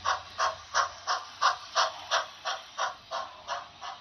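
Bachmann 2-6-0 model steam locomotive labouring along a model railway with a heavy train, giving a steady rhythmic chuff of about three hissing beats per second, close and moderately quiet.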